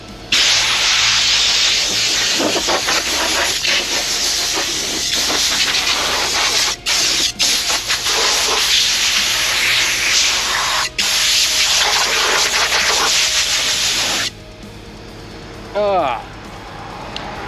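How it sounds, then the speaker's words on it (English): An air blower hisses in a loud, sustained blast while blowing off parts of an OBS Chevrolet K1500 truck during teardown, with brief interruptions, then stops abruptly near the end, followed by a short burst and then quiet. "let's go ahead and get this thing blown off"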